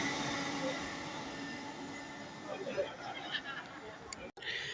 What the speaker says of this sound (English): 801, 222 on a LNER service to London King's Cross